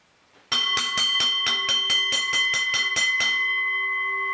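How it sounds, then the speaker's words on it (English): A bell is struck in a rapid run of about thirteen even, ringing strikes, each bright and loud, before the last tone hangs and fades. "go ahead and ring the bell."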